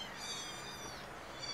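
Several young kittens, some of them black, meow and cry continuously in overlapping high-pitched calls, loud and close with no pauses.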